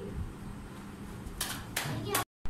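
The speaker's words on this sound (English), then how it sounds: "Clap on number 23." Children clap their hands together during a counting and number-jumping game at school, a few short bursts of claps in a noisy room with background chatter.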